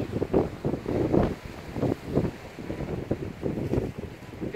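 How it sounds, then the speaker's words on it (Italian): Strong, cold wind at the seaside during a fishing trip buffets the microphone in rough, irregular gusts, with a rumbling low roar that rises and falls throughout. "Si sta mettendo vento eccessivo, freddo"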